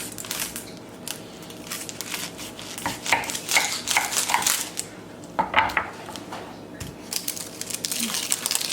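Knife cutting an onion in half on a board: a series of close knocks and crisp crunching cuts in an uneven rhythm, with a person talking intermittently.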